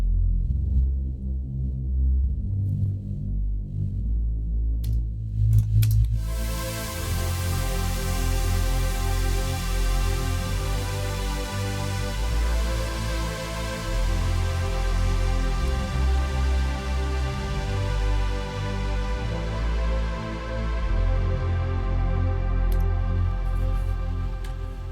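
Soloed synth sub pad from a trance breakdown, a sustained warm layered chord that swells in after a thin opening and then holds steady and full.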